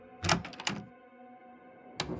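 A lounge door opens in a horror video game: a cluster of mechanical clicks and thunks, then a quiet pause and one more clunk, all near and fairly loud against a dark, still backdrop.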